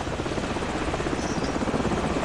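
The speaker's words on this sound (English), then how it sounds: "Enemy helicopters." Enemy helicopter in the Call of Duty 4: Modern Warfare video game, a loud, steady rotor drone with a rapid chopping pulse filling the whole stretch, no other sounds standing out.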